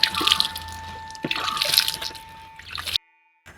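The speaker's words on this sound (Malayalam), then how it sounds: "നമുക്ക് കുറച്ച് വെള്ളവും കൂടി ഒഴിച്ചു കൊടുക്കാം" Water being poured from a container onto a potted syngonium plant, making a steady splashing trickle that carries on for about three seconds and then stops abruptly, with no talking.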